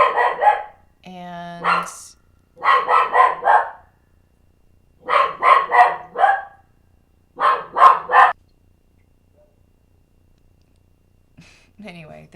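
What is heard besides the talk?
dog barking at neighbor dogs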